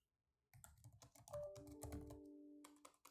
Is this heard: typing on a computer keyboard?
yes